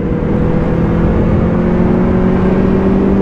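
Benelli 600i four-cylinder motorcycle cruising on a highway during a test ride, a steady close engine drone with wind rush that stays loud and even throughout, no voices.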